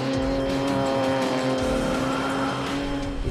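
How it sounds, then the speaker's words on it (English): A 450-horsepower race car lapping the Portimao circuit, its engine a loud, steady droning roar with sustained tonal whine and some tire noise, continuous throughout. "actually my first experience on a fast car with 450 horsepower."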